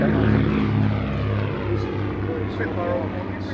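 A Supermarine Spitfire propeller plane drones loudly and continuously, a steady engine roar filling the whole stretch with no break.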